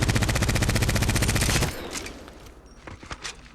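Devotion energy light machine gun firing in Apex Legends, a rapid, evenly spaced stream of loud shots for about a second and a half, then stopping and leaving scattered fainter clicks and handling noises with no voices.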